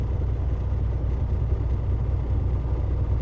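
A truck idles at steady low revs while its air brake compressor builds pressure, producing a constant deep engine drone that holds level throughout without speech.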